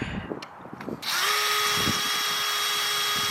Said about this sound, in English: we'll bring up that scrap piece of 4x4, hold it on the back there, and then drill it through the rest of the way